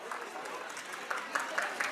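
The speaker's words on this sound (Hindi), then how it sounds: "तो एक बार जोरदार तालियां डॉक्टर सिंह के।" An audience gives applause for Dr. Singh at a parents' event, a dense, faint and steady patter of clapping with a few sharper claps standing out near the end, with some voices mixed in.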